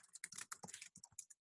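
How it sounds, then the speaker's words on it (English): Typing on a computer keyboard, a quick irregular run of faint, close clicks and taps with short pauses between them and no voices. "I press add text, and I just start typing"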